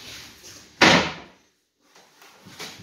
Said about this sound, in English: It'll have locks and latches on it, and you can close your doors.